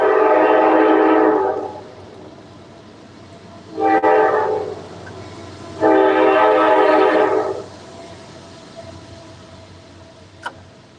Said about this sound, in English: The celebratory train whistle for your triple up.